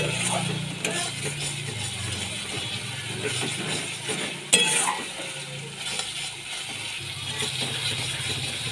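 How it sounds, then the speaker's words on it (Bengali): Cumin powder being stirred into spices frying in a pan for a pabda fish curry with mustard paste, a soft, quiet sizzle under irregular spatula scrapes and one sharp clink. "জিরে গুঁড়ো দিয়ে ভালো করে মিশিয়ে নিচ্ছি"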